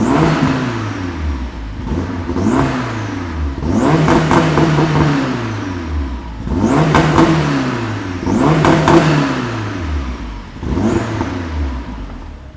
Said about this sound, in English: Then we're gonna get it some revs.